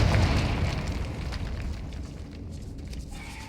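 A Confringo spell explosion in Hogwarts Legacy opens with a loud, rumbling burst that slowly fades into a lingering low roar and crackle, with no voices over it.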